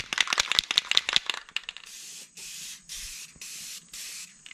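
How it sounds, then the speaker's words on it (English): An aerosol can of spray paint rattles as it is shaken, then lets out five short, steady hissing bursts of spray with brief gaps between them, close by and moderately loud. "This thing will only spray if I'm actively shaking it."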